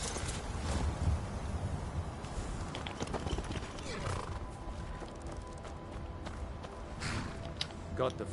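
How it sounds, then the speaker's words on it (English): Hooves clop steadily as a horse runs across the ground in the video game Skyrim, with occasional snorts and rustling, moderately near and fairly quiet. "That is my other horse coming back,"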